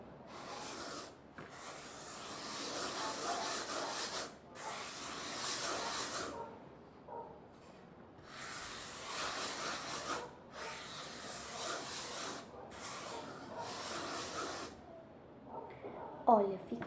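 Hands kneading and squeezing sticky edible homemade playdough, producing soft rubbing, rasping squishes in repeated stretches of a few seconds, quiet and close while a person talks between them.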